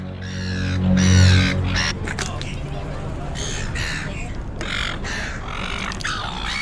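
Birds give harsh, crow-like caws in repeated bursts, loud and nearby at the Sydney Fish Market, with a low hum early on.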